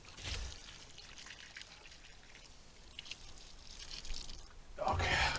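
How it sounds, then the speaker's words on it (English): Water pours and trickles over newly planted hostas in a raised flower bed, a soft intermittent splashing that swells near the end, with faint background sounds. "Right, so I'll water these in."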